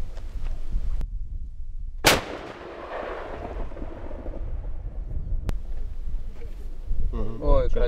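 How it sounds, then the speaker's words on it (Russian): Heavy military artillery fires during a training exercise, with one sharp, loud boom followed by a long rolling rumble and echo outdoors amid wind noise, with brief voices near the end. "вот сейчас стрельба навесом, это у них будет завершающий"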